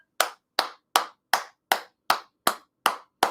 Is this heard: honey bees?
no